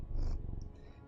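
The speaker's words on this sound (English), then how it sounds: "if you can hear him purring" A pet cat purrs close up in a brief, low rumbling burst that fades within a second, with no talking over it.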